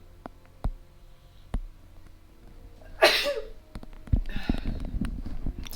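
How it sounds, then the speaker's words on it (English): A single sharp sneeze bursts out at close range, followed by a short pause and some rustling and muffled movement; no talking is heard. "Excuse me for a second, I'm gonna sneeze."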